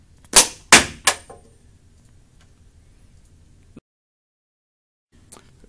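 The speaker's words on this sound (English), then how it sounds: "So, Justin, fire when you're ready." A homemade dual-stage coil gun fires in three sharp, loud bangs in quick succession, followed by a long quiet stretch with a faint click and a small tap near the end.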